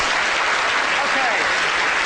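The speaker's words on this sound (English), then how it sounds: "Round of applause." Applause breaks out from an audience at a brain-science lecture: a dense, loud wash of clapping that holds steady throughout, with faint voices mixed in.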